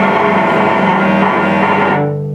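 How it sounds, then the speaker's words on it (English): A bowed string tone from a slow, heavy bow near the fingerboard, dense and rich in harmonics, holds steadily with a heavy, slightly scratchy grind before easing into a thinner sustained note. "if I were to try a slow, heavy bow up by the fingerboard, it would sound like this"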